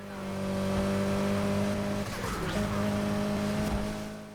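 Mitsubishi Evo X race car in Need for Speed Heat holds a loud, sustained engine note that wavers and briefly breaks up midway with a rough scraping burst, then carries on steadily.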